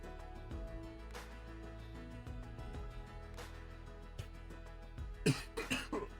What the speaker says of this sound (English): Oh, that's the first of 85 coughs today.